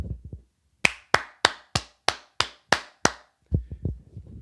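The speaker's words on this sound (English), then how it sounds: "just give yourself a round of applause" A podcast host claps his hands eight times in a steady, evenly spaced rhythm, sharp and close, with low murmuring sounds just before and after.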